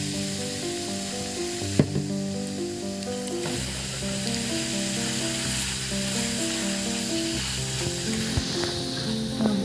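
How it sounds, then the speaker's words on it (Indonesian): Three spoons of flour sizzle and crackle steadily in leftover frying oil in a pan, with a few sharp clinks, while a low tonal hum runs underneath. "Ini bekas tadi ngoreng ya, kita masukkan terigu 3 sendok."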